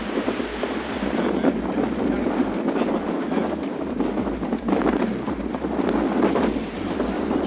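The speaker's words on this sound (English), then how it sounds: "We're in 37 knots apparent wind speed, ripping out across the Chesapeake as we speak right now." Strong, steady wind roars over a sailboat heeling hard in 37-knot apparent wind on the Chesapeake, with rushing water and a loud, continuous buffeting and no talk.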